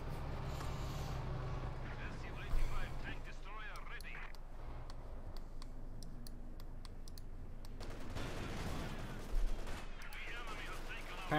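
Rapid bursts of tank and machine-gun fire from a Panther tank in the Company of Heroes 2 video game, crackling under continuous commentary.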